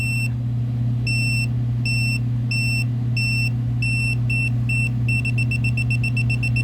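TOPTES PT199 combustible gas leak detector sounding its alarm, sharp electronic beeps that start spaced apart and speed into rapid bursts, loud and close over a steady low hum.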